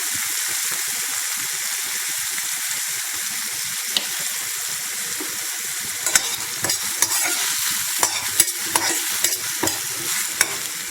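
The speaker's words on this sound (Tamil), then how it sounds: "இப்போ நல்லா வதக்கிக்கலாம்." Vegetables sizzle and fry steadily in a pan while sautéing sundakkai (turkey berry) masala, with occasional sharper clicks and scrapes of stirring toward the end.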